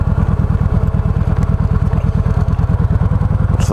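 Harley-Davidson motorcycles idling outside a hotel at night, a loud, close, lumpy engine throb with a rapid regular pulsing beat held steady throughout, no talking.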